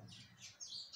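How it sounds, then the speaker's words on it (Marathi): Sparrows and other small birds chirp in a home courtyard, a few bright, quick tweets over about a second, faint and at moderate distance, with no voices. "पक्ष्यांच्या किलबिलाटानेच माझी पहाट होते।"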